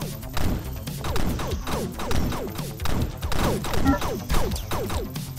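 Repeated gunfire from a slow-firing weapon in the video game Void Raiders, a steady series of heavy, punchy shots roughly every half second, loud and up close with no talk over them.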